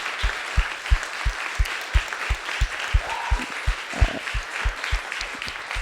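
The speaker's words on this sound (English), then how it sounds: "Can we have a round of applause for our audience" Audience at a panel talk clapping steadily, a broad wash of applause with a deep rhythmic thump pulsing about twice a second beneath it, moderately loud and without talk.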